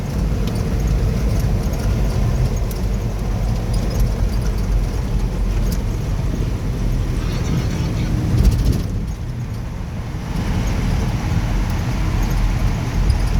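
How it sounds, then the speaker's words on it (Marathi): A car drives through the Mumbai Coastal Road undersea tunnel near Nariman Point, producing a loud, steady road and engine rumble that echoes inside the tunnel and dips briefly near the end. "आता आपण भुयारी मार्गातून जात आहोत."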